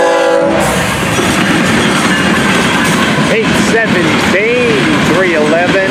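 Freight train rolling by close with a steady heavy roar and wheel rumble, its horn sounding in several rising and falling blasts toward the end.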